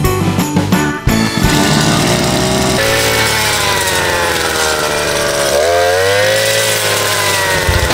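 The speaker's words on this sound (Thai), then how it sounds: "การตัดหญ้าด้วยเครื่องตัดหญ้าแบบสายสะพาย2จังหวะ" A Koshin EBC-43U two-stroke shoulder-slung brush cutter engine runs loud and close, holding a steady high whine after a brief sputter at the start.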